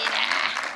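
Brief burst of audience applause from a live convention crowd at the E3 Coliseum, a dense, loud patter of many hands lasting under a second.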